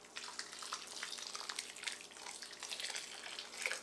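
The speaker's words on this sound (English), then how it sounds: "And then I'm going to dampen the soil." Water splashes and trickles steadily onto seed-starting mix blended with compost, dampening the soil before tomato and pepper seeds are sown; a close, continuous pour with no talk.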